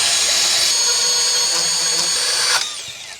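A quarter-inch steel base plate is being cut by a power tool with a loud, steady high-pitched whine that holds for a few seconds, then cuts off abruptly as the tool winds down.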